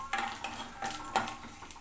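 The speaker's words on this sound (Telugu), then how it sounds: "కొంచెం జీలకర్ర, ఆవాలు, కొంచెం పల్లీలు ముందే వేస్తే కొంచెం వేగుతాయి" Cumin, mustard seeds and peanuts fry in a pan while a utensil scrapes and clinks against the metal in short, uneven strokes, with a soft sizzle underneath and no talking.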